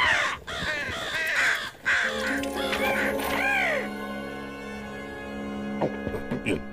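Cartoon crows in a Simpsons episode caw harshly several times over a background of music and effects, then give way to a steady sustained musical tone.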